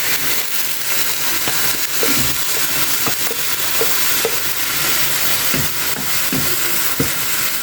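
Ground chili paste pours into a hot pan for ayam masak lemak cili api and sizzles steadily, with scattered stirring scrapes and pops over a continuous hiss.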